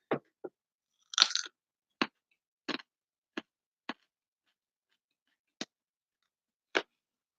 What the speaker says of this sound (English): Crunch ASMR.